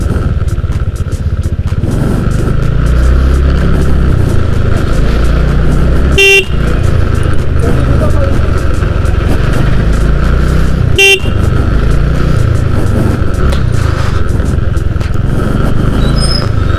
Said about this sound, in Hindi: यहाँ पे लग गया या लगने वाला है ट्रैफिक जाम, लग चुका है